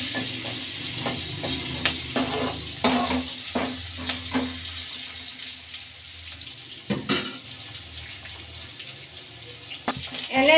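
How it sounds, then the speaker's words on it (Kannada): Green chillies and garlic fry in hot oil with a low, steady sizzle, broken by occasional spatula scrapes and light clinks against the pan, close-up and without voices. "ಫ್ರೈ ಮಾಡ್ಕೊಳ್ಳೋಣ."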